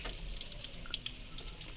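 Bay leaves with bruised ginger and galangal fry in roughly 150–200 ml of hot oil, giving a steady low sizzle dotted with small crackles and pops throughout.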